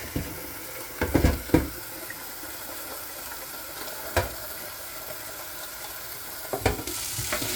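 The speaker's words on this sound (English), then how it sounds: "give it a good mix and clean, so we can get rid of that solution in the tank." Water sloshes and swirls in the tank of a DeLonghi ECAM 650.85.MS coffee machine as it is shaken and rinsed, giving a steady wet hiss broken by a few sharp splashes and knocks.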